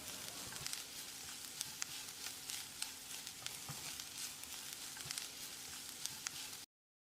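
Coriander, cumin and pepper powder stir-fried briefly with mutton masala in a pan, a faint, soft sizzle with light scattered crackles, then cut to silence at the end.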